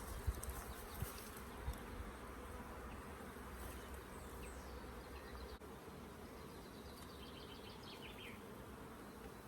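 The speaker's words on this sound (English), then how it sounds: "So many bees, I can hardly." Dense, steady hum of many honey bees swarming over an open hive frame, a close, continuous buzz filling the air with faint higher whines of individual bees passing near.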